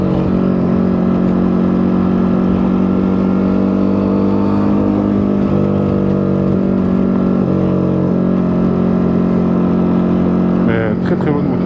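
A Ducati Monster 937 twin-cylinder engine drones steadily while the bike is ridden, with shifts in pitch as it changes gear and a louder throttle rise near the end. The sound is close and sustained.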